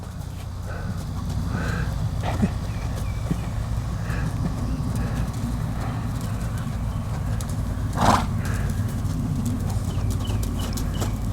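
A two-year-old filly trots in a round pen, her hooves giving a steady run of soft clip-clop beats over a constant low rumble of background noise, with one sharper thud near the end and no talking.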